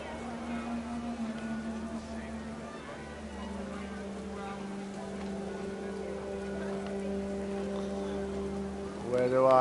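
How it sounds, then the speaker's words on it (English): Steady rain pours down in the video game What Remains of Edith Finch, a constant wash of noise under a low droning tone, with a brief louder burst right at the end. "The rain came down in buckets then"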